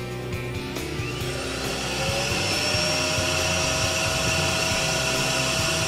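A vacuum cleaner runs steadily with a loud, continuous motor drone and a rising whine, heard up close with no talking.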